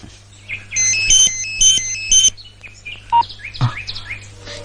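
A landline telephone rings loudly in repeated bright electronic trills, four close bursts in a row, followed by scattered fainter chirpy tones.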